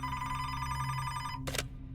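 A telephone rings inside a home with a steady, bright electronic tone that holds for about a second and a half before a short burst cuts across it. No one speaks.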